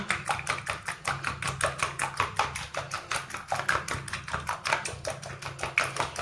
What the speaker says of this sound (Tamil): இதை இதில் போட்டு நல்லா பீட் பண்ணணுங்க